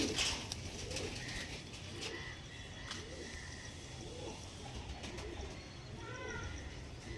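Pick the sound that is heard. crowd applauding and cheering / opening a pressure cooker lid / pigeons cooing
pigeons cooing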